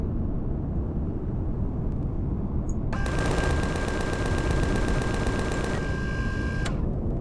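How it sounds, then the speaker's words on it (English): Rapid gunfire from a patrol vessel in the space game Empyrion rattles out as a fast, even burst of shots lasting several seconds over a constant low rumble of engine and ambient noise. "I'm taking shots from the patrol vessel as well."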